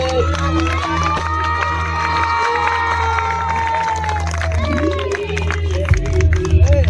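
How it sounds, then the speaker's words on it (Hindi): A crowd at a mass wedding ceremony at Ram Mandir Janakpuri, held as a women's empowerment event, cheers and shouts in a dense, steady roar, with a voice speaking over it and a steady low hum beneath. "शाबाश, तालियों से स्वागत।"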